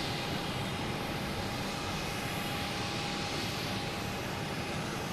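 A Southwest jet arriving from Nashville comes in to land at Boston Logan Airport over Pleasure Bay, a loud, steady, continuous engine roar with no pauses.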